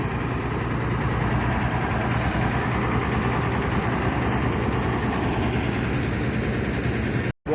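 A large ALS intercity bus engine idles in a steady, rumbling drone with a low vibrating hum, continuous and fairly close, cutting off abruptly at the very end.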